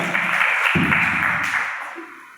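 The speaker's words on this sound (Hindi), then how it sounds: "जोरदार ताली बजाएंगे एक बार" Audience applause at a Bihar Day stage play: a crowd claps steadily and fairly loudly for a couple of seconds, then the sound tapers off slightly toward the end.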